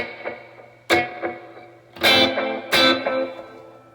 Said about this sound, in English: Turn the decay up on the reverb.